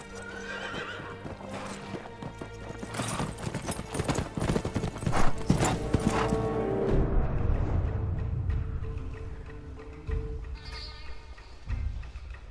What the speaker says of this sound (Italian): ci muoviamo a cavallo per l'isola di Tsushima